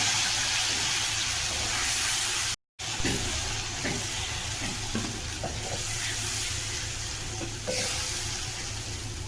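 Garlic and spices sizzle and fry in a pan, a steady close hiss with faint clinks of stirring, no voices.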